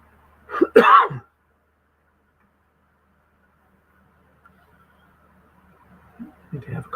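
A single short cough into a microphone during a live streamed football broadcast, close and sharp, followed by near silence and then faint low voice sounds.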